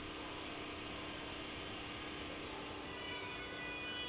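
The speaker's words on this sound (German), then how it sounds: "Der Zug fährt weiter, wahrscheinlich in die Abstellung." Rolling train noise from Train Sim World 3 at Dresden Hauptbahnhof, a steady broadband rumble with a faint rising whine near the end, no voices.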